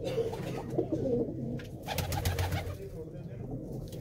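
A pigeon or two coos close by, soft throaty rolling calls in short phrases, with faint background noise and no talk.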